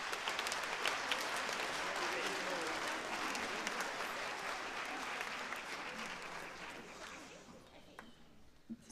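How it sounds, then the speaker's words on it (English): Sustained applause from a large audience at a school spring choir concert, steady and dense, gradually thinning toward the end with a few scattered claps. "Let's give them a round of applause"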